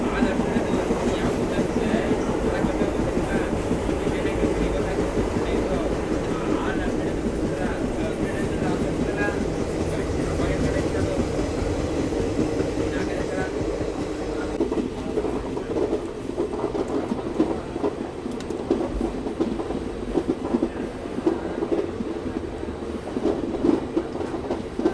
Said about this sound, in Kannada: ಮೈಸೂರು ಚಾಮರಾಜನಗರ ಪ್ಯಾಸೆಂಜರ್ ಟ್ರೈನ್ ತಲುಪಿದೆ ಸುಜಾತಪುರಂ ಹಾಲ್ಟ್ ರೈಲ್ವೆ ಸ್ಟೇಷನ್ಗೆ